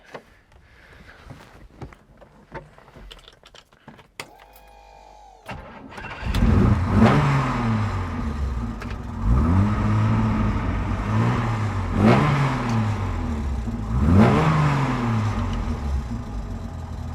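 A classic Porsche 356 sports car cranks over after a few clicks and a brief starter whir, catches and settles into a loud, close idle broken by several rhythmic revs that rise and fall.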